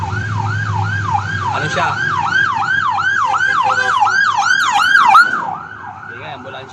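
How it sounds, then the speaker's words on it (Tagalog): An ambulance siren wails loud and close in a rapid, repeating up-and-down cycle over road traffic noise, then cuts off abruptly near the end, with a brief voice speaking. "Hindi nga, ambulansya."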